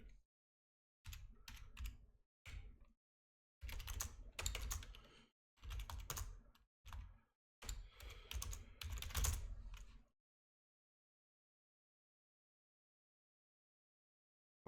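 Typing of a search on a computer keyboard, a quiet close-up flurry of key clicks in several short bursts over about ten seconds, ending in silence.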